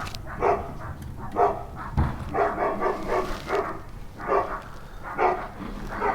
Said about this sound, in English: the joys of little dogs and big dogs, and all sharing a neighborhood